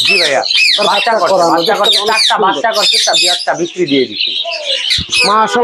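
Loud, close squawks and harsh chattering calls from birds for sale at a bird shop in Savar, where hill mynas and parrots are kept, calling almost continuously with a voice briefly audible.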